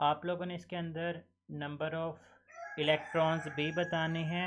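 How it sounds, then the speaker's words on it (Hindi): A rooster crows in the background behind a person lecturing indoors. The crowing sits partly masked under the steady talking. "कुछ रियली सॉरी अगर आप लोगों को आवाज़ें पीछे से ये मुर्गे वगैरह की आ रही हैं"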